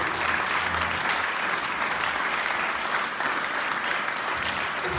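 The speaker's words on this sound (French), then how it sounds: "J'aimerais qu'on applaudisse encore une fois l'Union instrumentale de Forêt" Sustained audience applause for the Union instrumentale de Forêt, a wind band, at a harvest church service; steady dense clapping fills the whole stretch at moderate volume.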